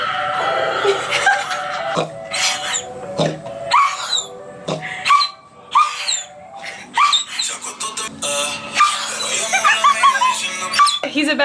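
A disabled dog vocalizes along to a song, making a series of short yips, whimpers and strained howl-like cries in irregular bursts, close and fairly loud over the music.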